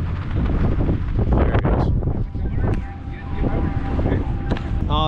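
Strong wind gusting outdoors where kites are being flown in Changchun, northeastern China, a heavy, uneven rumble buffeting the microphone while a person talks over it.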